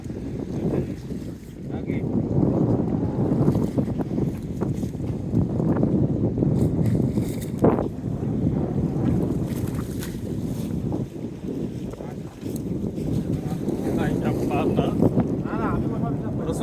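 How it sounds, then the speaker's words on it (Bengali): A wooden fishing trawler rocks on a stormy Bay of Bengal while wind roars steadily across the microphone, with water sloshing and low rumbling continuing throughout as the boat hauls its nets. "বড় বড় ঢেউ যখন ট্রলারের নিচে আছড়ে পড়ে তখন আমাদের এই কাঠের ট্রলারটি বেশ জোরে দোল খায়"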